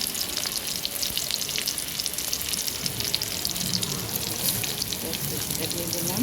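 Chopped onion sizzles and crackles in a hot pan, a steady, close frying hiss throughout with occasional stirring.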